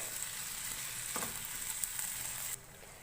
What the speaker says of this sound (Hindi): लो टू मीडियम फ्लेम पे इसको 5 से 6 मिनट पकाएंगे ताकि चिकन सॉफ्ट हो जाए।